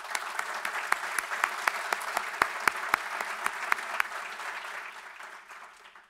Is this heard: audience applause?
yes